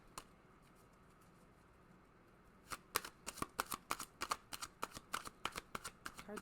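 A tarot-style card deck is shuffled for a daily reading, the quiet riffles and snaps coming in a quick irregular burst of crisp taps after a near-silent pause, close and soft.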